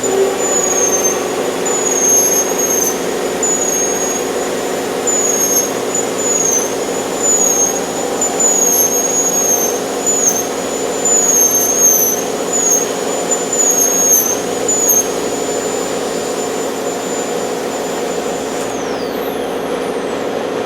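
A compressed-air piercing and texturing tool cutting a woodturning, running on air regulated to about 40 psi, gives a steady high-pitched whine with a loud continuous airy hiss that stops near the end.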